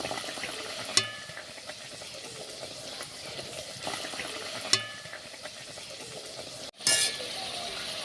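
Luchi puris dropping one by one into well-heated white oil in a wok, a steady bubbling sizzle with a couple of sharp clinks and a louder burst of frying near the end.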